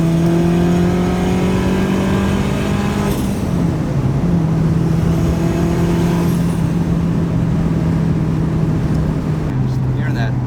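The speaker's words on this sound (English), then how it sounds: "Just hearing that turbo" Turbocharged Acura TSX pulling hard under boost, a loud steady engine drone with rising turbo whine, a brief gear-change dip partway through, heard from inside the car.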